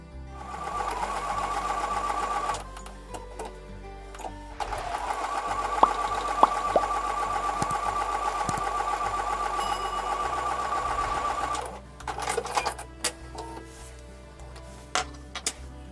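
Sewing machine stitching a quarter-inch seam on a quilt block runs in two long, steady whirring bursts with a short pause between, followed by a few light clicks and handling noises.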